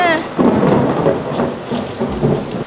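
Heavy rain pours steadily with a loud rumble of thunder rolling through it, a brief dog whine at the start, close and continuous throughout.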